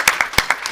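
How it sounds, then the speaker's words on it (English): A few scattered hand claps ring out from an audience at a Farm Bill 2018 symposium plenary, sharp separate slaps spaced unevenly, moderately close, with no voices. "I wanted to give her an applause"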